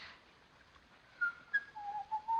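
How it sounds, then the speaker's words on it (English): A person whistles a few short, wavering notes, moderately close, with brief pauses between phrases over a quiet background. "Oh, do stop whistling."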